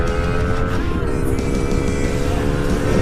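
Motorcycle fitted with a Qala Performance racing exhaust pulling away under throttle, a loud raspy engine tone rising steadily and close by, running continuously with no speech.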